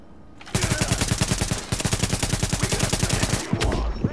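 Rapid sustained gunfire from The Division video game, loud and close, rattling in dense bursts with a brief break before continuing, then cutting off near the end.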